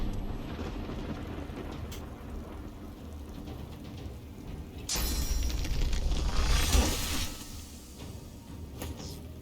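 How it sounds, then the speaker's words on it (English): Steady rain in the video game Divinity Original Sin 2, with a deep rolling rumble of thunder swelling midway before fading back to the hiss of rainfall. "it's raining, I see"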